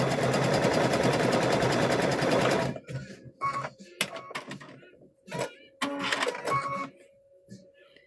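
A sewing machine stitches a test stitch on a trick-or-treat bag: a steady, loud whir for under three seconds, then stops, followed by a person talking over quiet clicks and handling.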